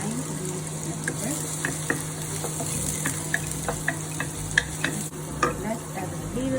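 Garlic is added to a hot pan and fried while cooking tteokbokki at home, giving a steady sizzle with intermittent scrapes and clicks of stirring throughout, no talk.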